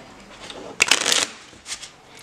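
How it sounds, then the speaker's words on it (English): A quick riffle of a Bee Red Metal Luxe deck of playing cards being shuffled, a short burst of flapping card noise followed by a softer second riffle. "Let's see how this deck shuffles."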